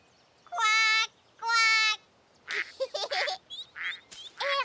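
A person imitates a duck quacking in a Caillou cartoon set in a field, with two long, even nasal quacks followed by a burst of shorter, choppier quack-like calls, close and clear.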